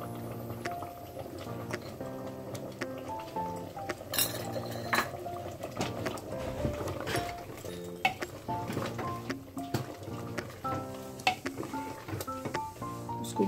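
Mutton korma being sautéed in a pot, with a spoon clinking and scraping against the metal in irregular bursts over a faint sizzle and a soft background hum.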